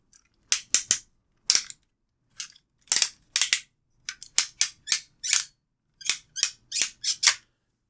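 Ratcheting plastic joints of an Armada Tidal Wave transforming robot toy being moved, a series of sharp, close clicks in irregular bursts, crisp and isolated against silence.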